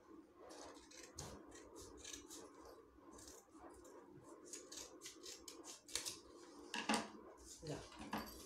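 Scissors snip paper in half for a tortoise craft, a run of quick, close crisp cuts with rustling paper, faint and fairly quiet overall.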